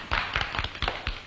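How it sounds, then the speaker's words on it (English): A single person clapping in a radio comedy, about six sharp close hand claps in an uneven rhythm, with no voices. "Dexter, stop applauding."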